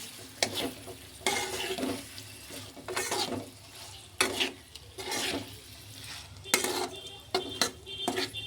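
A spoon stirs chopped eggs into egg masala in a pan, with repeated scraping and clattering strokes at an irregular rhythm over a faint sizzle. The sound is close and moderately loud, and no one speaks.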